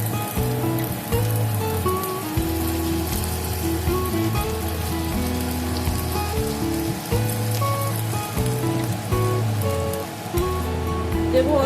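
Ginger spice paste fries in a pan for a Kashmiri dum aloo, giving a steady, close crackling sizzle throughout, with faint tonal background sounds underneath.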